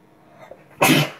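A single sharp sneeze bursts out close and loud after a stretch of quiet, faint background sound, during a Happy Wheels game session.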